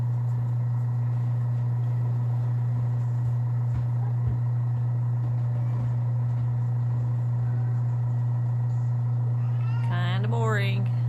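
A machine steadily spins a jar overfilled with cream for homemade butter, giving a constant low motor hum with a faint rattle that runs unchanged throughout, plus a brief squeaky chirp near the end.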